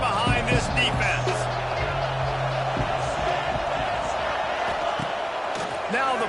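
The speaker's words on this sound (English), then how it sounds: "Big 3rd down as the crowd gets behind this defense." A football stadium crowd roars in support of the defense before a third down, a steady, loud wash of cheering and whooping that holds across the whole moment while a commentator talks over it.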